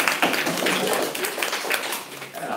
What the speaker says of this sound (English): Round of applause for 10th graders